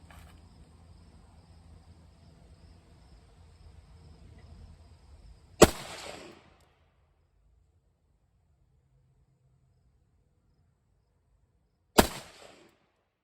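Two sharp, loud gunshots about six seconds apart during a test of a BOG Deathgrip shooting rest. Each crack ends in a brief fading echo, and a low outdoor hum fades out after the first shot.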